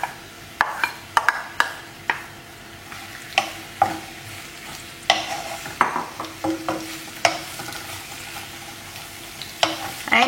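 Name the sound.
chopped onions frying in hot oil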